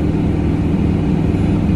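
A Ford 7.3 IDI turbo diesel truck with 5.13 gears tows 21,000 pounds uphill. Its engine drones loud and steady from inside the cab, a deep continuous rumble with no talking.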